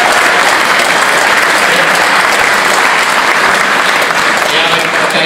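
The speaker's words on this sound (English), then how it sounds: "I told her she'd get a bigger round of applause than me." A conference audience at the UKIP Eastbourne South East Conference in 2014 gives a loud, sustained round of applause, thick and even from start to finish with no pauses.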